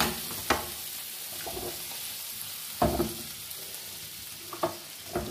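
Vegetables fry in a pan with a quiet, steady sizzle, broken by several sharp spoon-scraping clicks and stirring knocks at uneven intervals.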